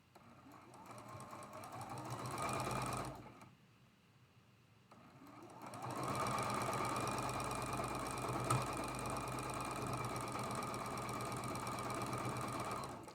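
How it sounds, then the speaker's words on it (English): A sewing machine stitches quilt block seams for a Flying Geese pattern, running in a loud steady whir for a few seconds, pausing briefly, then running again continuously to the end. "we're going to sew these 3 seams"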